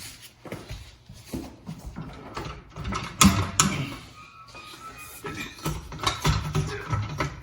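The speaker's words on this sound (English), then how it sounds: "So maybe we will jack this up a little bit and try and push down." A car jack raising a 2008 to 2020 Grand Caravan during CV joint replacement gives close creaking, clicking mechanical strokes in uneven bursts, with a few sharper metallic knocks.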